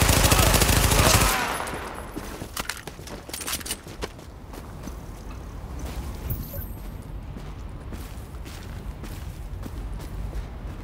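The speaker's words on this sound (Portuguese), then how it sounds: "Levando tiros de calibre baixo. Armas de calibre baixo." Low-calibre weapons fire in the shooter game Tom Clancy's The Division, with a dense rattling burst up front, then scattered sharper shots and footsteps continuing at a lower level.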